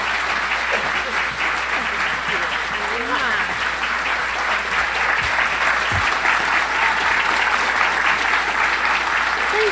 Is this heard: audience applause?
yes